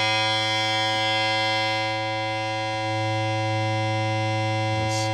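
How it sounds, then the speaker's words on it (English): A steady square wave test tone played through a Krank Nineteen 80 Jr 20-watt tube guitar amplifier, a loud, buzzy and harmonically rich sustained drone that holds continuously with no talk over it. "Let's get a square wave."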